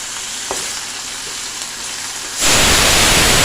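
Potato and pumpkin pieces dropped into hot oil in a pan, a quiet simmer that suddenly bursts into a loud, dense, crackling sizzle as they hit the oil, with stirring.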